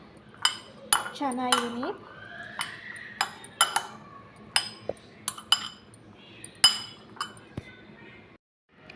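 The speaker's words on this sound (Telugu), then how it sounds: "అన్నీ మిక్స్ చేసేసుకోవాలండి." A utensil scrapes and clinks against a bowl while chickpea salad ingredients are mixed. It makes close, irregular taps and clatters, with someone speaking briefly over them.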